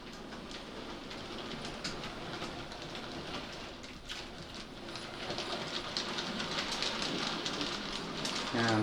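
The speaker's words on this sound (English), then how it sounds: "have the Hornby Schools class pulling the same rake of freight as we did with the Dean's Goods." An OO gauge Hornby Schools class model steam locomotive hauls a rake of freight wagons around an 8x4 layout, giving a steady close rumble and rattle of wheels on track that grows slightly louder toward the end.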